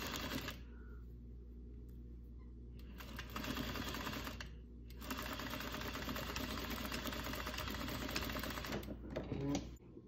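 A sewing machine runs in sustained bursts as it stitches a 1/4 inch seam over elastic on a cloth face mask, a steady close mechanical whir that pauses briefly twice.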